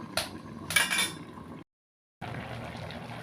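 A metal lid clinks onto a pot of puti fish curry with seed banana, two bright clanks followed by a low simmering bubble, a brief silent gap, then gentle boiling.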